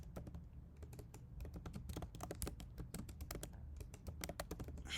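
Rapid typing on a computer keyboard, a dense stream of close, crisp key clicks in uneven bursts, with no voices.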